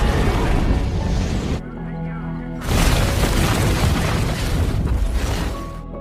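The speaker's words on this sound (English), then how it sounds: "The Overwatch team successfully completes the mission and exits the house before a large explosion occurs." A large explosion destroys a house in an action movie, a loud sustained roaring blast with heavy low rumble, briefly dropping away before a second powerful burst of debris-filled roar continues to the end.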